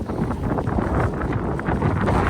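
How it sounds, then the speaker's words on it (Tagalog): Steady wind buffets the microphone with a dull, continuous roar, loud and close throughout, no voices. "Sarap lang ng hangin, presko."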